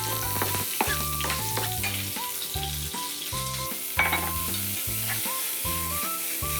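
Ginger stir-fries in salad oil with a continuous close sizzle and light scraping from stirring, steady throughout over a soft background tune.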